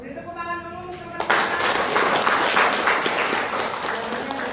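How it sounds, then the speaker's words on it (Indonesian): Students in a midwifery classroom break into applause after a voice speaks, a close, lively clatter of many hands that starts abruptly and carries on steadily to the end. "Beri tepuk tangan dulu teman-teman."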